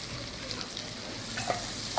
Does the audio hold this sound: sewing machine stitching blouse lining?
no